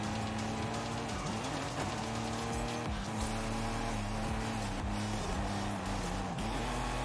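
Race cars roaring past in Forza Horizon 5, loud continuous engine whine with shifting pitch as gears change, two cars blasting by in close succession with no talk.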